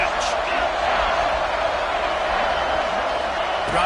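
A football stadium crowd roars on a third down in the red zone, a dense, loud, sustained wash of cheering.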